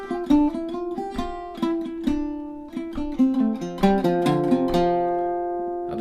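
Octave mandolin picking a lively new phrase from the tune Inverness, with a steady run of bright plucked notes that ring on, then a final chord left to decay; played alone with no talking.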